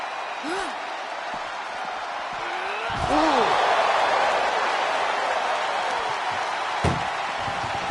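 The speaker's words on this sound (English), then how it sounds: "Pushing with every fiber of their being to slam the door." A heavy metallic slam of an ambulance door being forced shut during a WWE wrestling ambulance match on PS5, with crowd noise and commentary around it.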